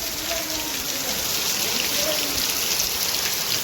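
Steady rain has been falling for three days over a farm with a standing, unharvested pearl millet crop, heard as a dense, continuous hiss of drops with no breaks.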